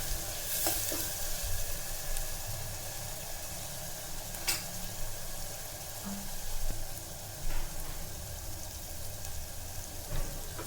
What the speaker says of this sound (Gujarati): મરચું પાવડર લઈ લઈશું હવે એને બરાબર પાકવા દઈશું તેલ છૂટું પડી જાય ત્યાં સુધી પાકવા દેવાનું છે